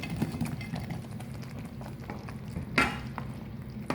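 Chicken being stirred into thick Manchurian gravy in a pan, soft repeated scrapes and wet stirring knocks over a low bubbling sizzle.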